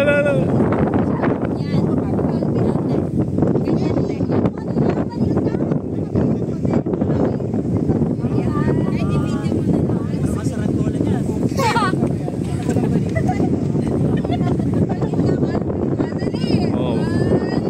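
Strong wind at Little Baguio, KM 90 in Sta. Maria, Laguna, roaring and buffeting the microphone continuously while people talk under it.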